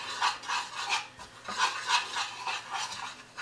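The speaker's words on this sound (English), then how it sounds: "So we're just gonna start to slowly stir that in." A utensil scrapes around a pan as flour is slowly stirred into a meatloaf sauce with thyme, a close, rhythmic rasping about twice per second, fairly quiet with no talk.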